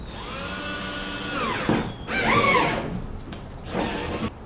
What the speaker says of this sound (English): Now we get our drill with the 1/2-inch bit.